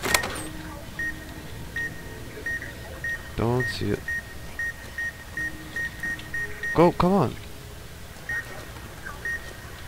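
A device in Fallout: New Vegas gives short electronic beeps at a regular pace through the whole stretch, with a player talking over it at a couple of points.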